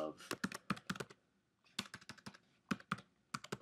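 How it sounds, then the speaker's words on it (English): Keys clatter on a computer keyboard in two quick bursts of typing separated by a short pause, close and crisp with no talk. "I'll type in meaning of"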